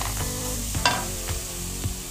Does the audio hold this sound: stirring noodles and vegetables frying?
yes